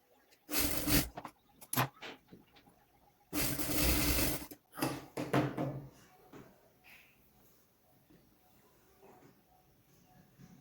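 A sewing machine stitching lace onto a kurti runs in a few short whirring bursts, the longest about a second, then falls quiet apart from faint handling sounds.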